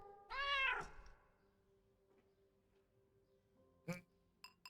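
A cat in the point-and-click adventure game Crowns and Pawns: Kingdom of Deceit gives one loud, close, drawn-out meow, followed by quiet game sounds and a few faint clicks.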